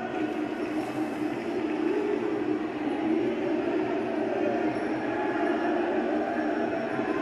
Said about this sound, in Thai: มีเสียงโห ดังขึ้นดังขึ้นตามลำดับครับ